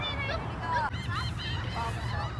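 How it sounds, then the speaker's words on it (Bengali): A flock of birds lifts off into the sky outdoors, giving repeated honking calls in overlapping bursts over a steady low rumble of background noise. "কত পাখি উঠছে আকাশে খুব সুন্দর লাগছে"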